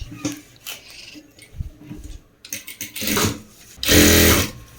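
A sewing machine stitches a folded hem on cloth while making shorts, running in short bursts with pauses and ending in a longer, louder continuous run near the close.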